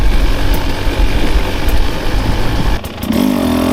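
A 2024 Husqvarna TE 300 two-stroke dirt bike engine revving hard and close, with a brief dip in power near the end before it picks back up.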